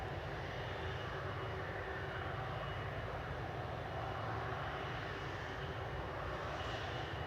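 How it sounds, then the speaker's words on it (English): A Saudia airliner approaches to land at Manchester Airport, its engines a steady, broad roar that holds evenly throughout with no voices. "Saudia's coming into land."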